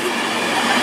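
A train rumbles steadily past a station platform at Grantham, with a Class 90 electric locomotive on the line, giving a loud, continuous broadband roar with no speech.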